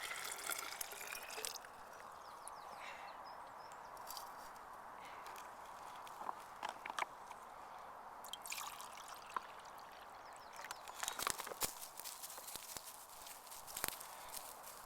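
Water is poured into a TravelTap filter bottle, giving a faint, steady trickle with scattered soft clicks and knocks from the bottle being handled.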